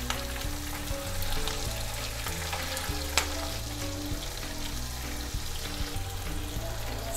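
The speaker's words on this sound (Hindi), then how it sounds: "3 मिनट हो गए हैं, इसे हम शैलो फ्राई कर रहे हैं" Masala fish shallow frying in a pan, with a dense, continuous sizzle of oil running steadily throughout over low tonal background music, plus one sharp click midway.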